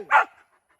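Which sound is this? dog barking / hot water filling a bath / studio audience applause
dog barking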